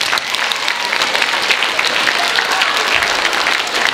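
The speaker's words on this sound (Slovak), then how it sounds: "Privítajte teraz spolu potleskom nášho hostia, Martin Harich." An audience applauds steadily to welcome a guest at a children's organization event in Nová Dubnica, a dense, continuous wash of clapping filling the room without pause.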